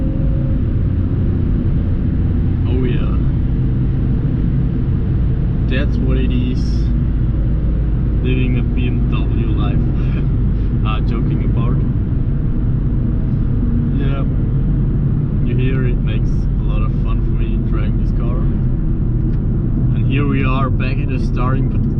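Steady low engine rumble and road noise from a BMW 325xi E46 Touring being driven, continuous throughout with faint higher clicks and cabin sounds over the drone.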